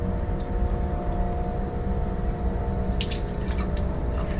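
Continuous rinse water over a Western blot membrane after the milk block is poured off, giving a steady running, trickling wash with a few brighter splashes toward the end and no talking.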